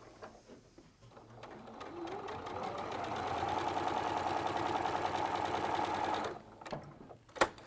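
A sewing machine runs continuously, sewing a second line on a spooky Halloween make, with a steady, close, rapid buzz that builds and holds for several seconds before stopping, followed by a few brief clicks and handling knocks.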